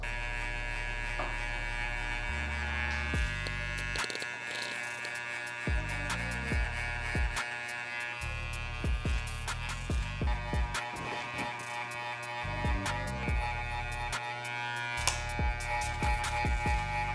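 Electric hair clippers with a 1.5 guard, lever fully open, buzz steadily while debulking the sides of a haircut, the motor pitch shifting as the blades pass through hair in repeated strokes, close and continuous without talk.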